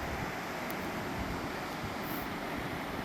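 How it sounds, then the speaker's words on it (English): A stream roars steadily beside a muddy forest trail, its broad rushing wash constant and fairly close, filling the whole moment with no voices over it. "we can hear some roaring water"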